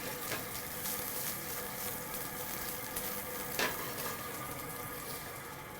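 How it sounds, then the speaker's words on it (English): Steady crackling sizzle of mushrooms frying in olive oil, a continuous hiss with a couple of brief louder pops, no voices. "You're gonna give them a little sizzle."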